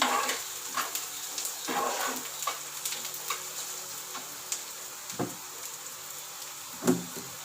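Onions fry in a pan while cooking soya 65, giving a steady sizzle with occasional stirring clinks and scrapes of utensils against the pan scattered throughout.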